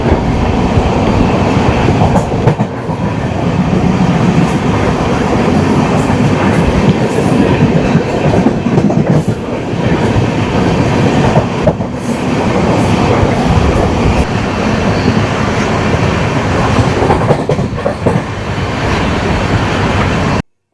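Sapthagiri Express train running through hills toward Tirupati, a loud continuous rumble of wheels and carriages heard from onboard with rattling and clatter throughout and no talking.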